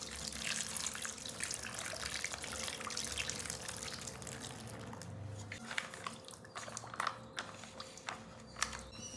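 Hot water is poured from close by over dalda shortstening in a home kitchen, a steady splashing pour that runs for about five seconds before tapering into drips and small clinks.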